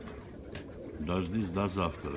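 Farm pigeons coo in short warbling phrases, close by, while someone talks over them in Russian.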